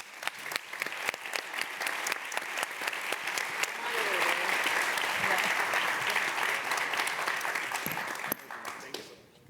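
Applause for a design leadership panel, with scattered claps that swell into a full, dense round of clapping from the audience and then fade; voices murmur faintly underneath.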